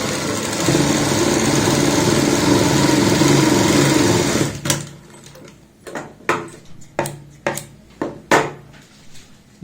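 A sewing machine stitches pin tucks on a kurti neck, running in a steady loud whir for about four seconds, then stopping and giving way to short separate bursts of stitching.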